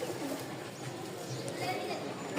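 Domestic pigeons, a pair with white foot feathers, white wings and white tail, coo softly amid a busy, continuous background while a person talks nearby.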